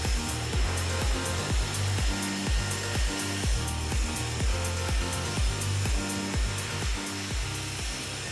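A handheld hair dryer blows steadily and loudly as a paddle brush is pulled through hair to dry it smooth and straight, the constant airflow roar carrying repeated rhythmic brushing strokes with no talking.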